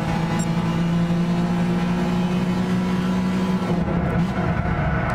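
A race car engine in Gran Turismo 6 drones loud and steady at sustained high revs, holding a constant hum with slight variations in pitch, then thins briefly near the end, alone with no talk.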